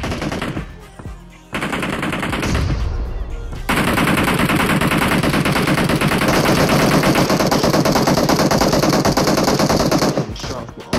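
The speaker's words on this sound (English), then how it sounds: "Shots." Automatic gunfire in PUBG Mobile on the Livik map, long loud rapid bursts of shots running almost continuously after a short break at the start.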